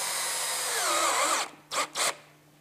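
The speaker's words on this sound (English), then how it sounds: "I put another screw in" A power drill drives a screw into a gutter topper, one continuous whirring run of over a second, then two short bursts as the screw is seated, up close with no talk.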